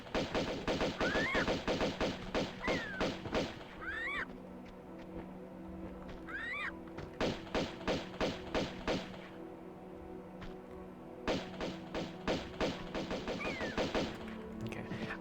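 Pistols firing at vultures in the Tibetan Foothills level of Tomb Raider 2. Rapid sharp shots come in repeated bursts, with short gaps between them and brief shrill bird cries in between.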